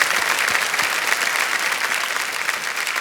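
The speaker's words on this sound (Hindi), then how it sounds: "तालियों के साथ हम आपका स्वागत करते हैं।" Studio audience on a television quiz show applauds a contestant who has just won 25 lakh rupees, a loud, sustained wash of clapping with no talking.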